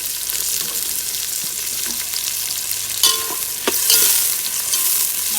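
Onions and tomato sautéing in a pan for ghee rice, giving a steady close sizzle with a few sharp stirring scrapes toward the end and no talking.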